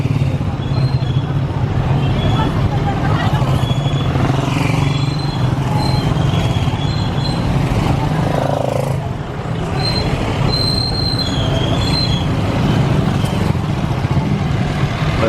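Busy street traffic in Angeles City, Philippines, heard from inside a moving vehicle: a constant loud road rumble with engines, passing vehicles and occasional high squeals or brakes, with no talk.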